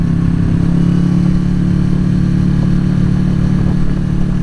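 A 2020 Kawasaki Z650 motorcycle engine on the road during riding and shifting, a loud, steady mid-pitched drone with constant wind rush and no talking.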